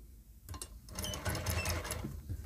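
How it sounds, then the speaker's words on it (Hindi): A sewing machine stitching fabric while a neckline is widened, a short quiet mechanical whirr of rapid needle strokes at close range. "अंदर की तरफ फोल्ड करना है और ऐसे सिलाई लगाते जाना है"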